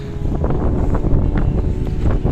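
Strong wind buffets the microphone in loud, continuous gusts beside the Chenab River, a rough roaring rumble with no other sounds standing out.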